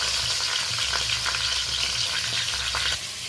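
Pieces of small pond-raised catla fish fry in hot oil, a steady, loud, close crackling sizzle running continuously throughout with no talk.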